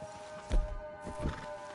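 A horse in the video game Red Dead Redemption 2 snorts and whinnies briefly amid soft hoof thuds, over a steady musical hum in the background.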